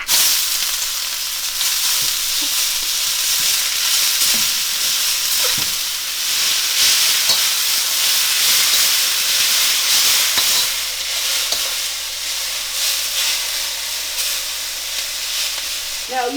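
Sliced potato and garlic fry in a pan with a loud, steady sizzle and hiss, broken now and then by faint stirring clatter.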